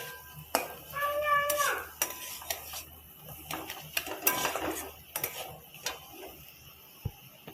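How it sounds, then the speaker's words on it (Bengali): Bitter gourd being stirred in a pan, with clinks and scrapes of a utensil against metal in irregular bursts, a faint sizzle underneath and no talk. "এর মধ্যে উচ্ছেটা ঢেলে দিচ্ছি, দিয়ে একটু মিশিয়ে নেব।"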